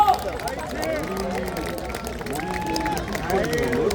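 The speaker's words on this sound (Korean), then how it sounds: "큰 박수로 맞이해주십시오." An outdoor crowd at Cheonggye Plaza in Seoul gives a continuous patter of applause to welcome a city councillor, moderately loud, with voices and some tonal sound running underneath.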